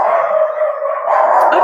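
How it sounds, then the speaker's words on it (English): Dogs outdoors howl and bark in a steady, continuous outburst, fairly close and loud, with no speech over them. "And now the dogs are barking because there's other dogs out there."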